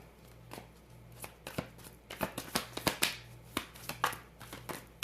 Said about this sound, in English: get the shuffling down